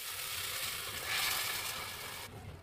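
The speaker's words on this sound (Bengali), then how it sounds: "ভালোভাবে নেড়ে চেড়ে আমি সিদ্ধ করা শাকগুলো দিয়ে দিচ্ছি" Boiled taro greens hitting hot oil with garlic and dried chili, a dense close sizzle that swells briefly and then eases.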